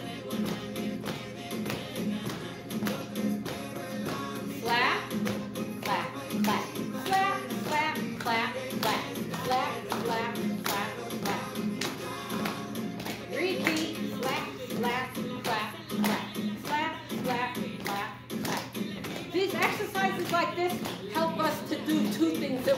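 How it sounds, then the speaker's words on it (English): Hands clap in a steady rhythm during a seated Zumba Gold exercise class, repeating throughout over loud upbeat dance music, with the instructor's voice mixed in. "we're moving our feet and we're clapping our hands at the same time"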